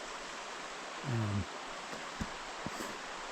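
Steady broadband rush of Spoon Creek flowing below a hiking trail, lower than usual during a dry spell, with a brief hesitant voice sound and a couple of soft clicks over it.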